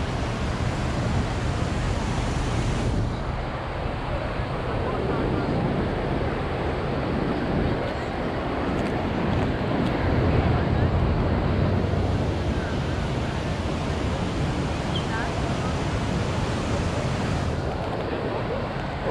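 Ocean surf rolls in continuously at a crowded beach in Balneário Camboriú, a broad steady roar of waves mixed with wind buffeting the microphone, close and loud throughout.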